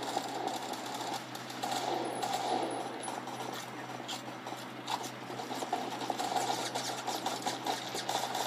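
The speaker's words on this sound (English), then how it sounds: "There is some hardcore shooting here." Rapid gunfire from the Roblox first-person shooter Phantom Forces, a dense continuous clatter of shots at moderate level with no talk.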